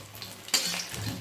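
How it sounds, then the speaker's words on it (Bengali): Shiuli leaf fritters frying in a pan, a soft oily sizzle broken by a brief metallic clink and scrape of a utensil stirring, close and short. "এদিকে আরও 3টে বড়া ভাজছি"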